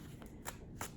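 Tarot cards being shuffled by hand, two quick riffling bursts about a third of a second apart over a quiet room, close and soft, with no voices.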